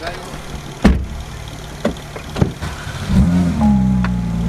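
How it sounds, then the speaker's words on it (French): Cars in a collection of vehicles on an English road trip, including a GT2, start up with sharp cranking bursts, then settle into a low, steady idle, with people talking nearby. "on va démarrer les voitures"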